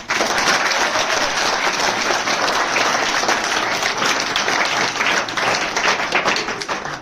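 Dense, sustained audience applause fills a class 12 farewell party hall, loud and even for the whole stretch with little talk.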